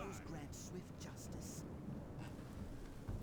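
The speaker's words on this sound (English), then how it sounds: "Oh, and it's raining." Steady rain hiss with a low rumble of thunder underneath during a Total War battle set in Middle-earth, with soft voices faintly present.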